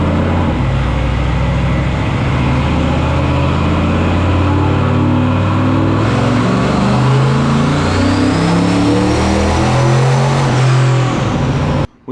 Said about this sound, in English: this engine right now is running on 5 psi of boost pressure